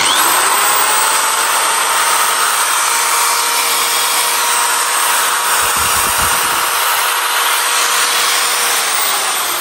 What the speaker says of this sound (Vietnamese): cái mẫu máy khoan này rất là mạnh cũng khá là gọn gàng